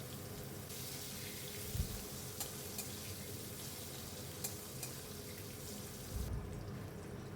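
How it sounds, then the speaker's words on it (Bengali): Pointed gourd pieces frying in hot oil with a little turmeric, giving a steady, soft sizzle that runs evenly throughout, with a few brief clinks and stirs and no voices. "প্রথমে সামান্য একটু হলুদ দিয়ে পটলগুলো ভেজে নিচ্ছি"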